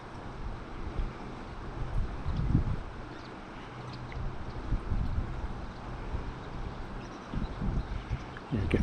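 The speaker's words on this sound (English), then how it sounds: "sometimes as whirlpools form and the jet boat goes through them" Wind-buffeted rumble and choppy water sound from a coastal clifftop as a jet boat runs through whirlpools offshore near St Davids, Pembrokeshire, with irregular low surges and gusty microphone noise throughout.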